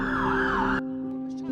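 A London ambulance siren wails loudly and close for under a second, its pitch sweeping up and down, then cuts off abruptly, leaving a faint steady hum behind.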